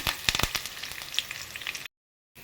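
Crushed garlic and curry leaves frying in hot oil for mango pickle, a close, crackling sizzle with sharp pops that cuts off abruptly into brief silence before faint noise returns.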